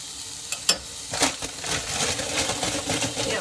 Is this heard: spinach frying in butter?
yes